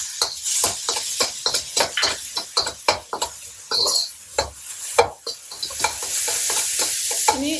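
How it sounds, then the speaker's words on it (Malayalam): Chopped tomato stirred and fried in a pan with carrot for street-style kothu parotta, a loud sizzle broken by rapid, rhythmic scrapes and clanks of a spatula against the metal. "ഇതിലേക്ക് ടൊമാറ്റോ ഇട്ട് കൊടുക്കണം."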